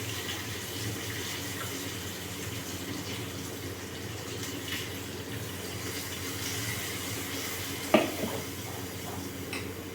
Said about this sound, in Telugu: కొంచెం వాటర్ అనేది యాడ్ చేస్తున్నాను చట్నీలోకి